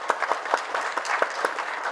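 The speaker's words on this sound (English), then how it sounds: "a warm round of applause for all the women who are here" Audience applause for the women at a World Elder Abuse Awareness Day event, a few distinct nearby claps rising over a sparse room, fairly light and brief.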